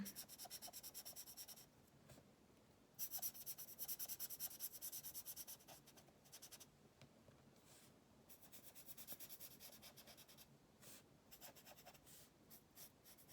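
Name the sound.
felt tip pen colouring on paper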